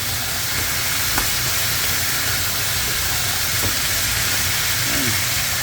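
Broth poured into a hot pot of chicken stew, a loud continuous sizzling hiss that holds steady throughout, with faint clinks underneath and no talk.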